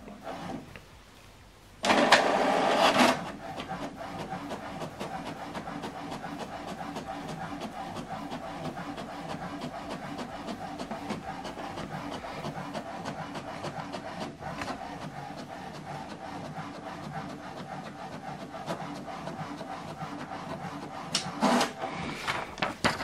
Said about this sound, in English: Let's check it out by printing our sample document.